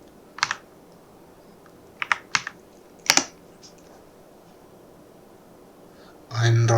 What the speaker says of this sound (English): Open a terminal and type this command.